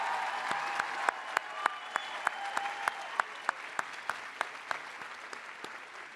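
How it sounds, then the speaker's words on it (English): A graduation audience at MassBay Community College claps steadily in a broad, sustained wash of applause, with sharp individual claps popping out above the crowd. "You can applaud now."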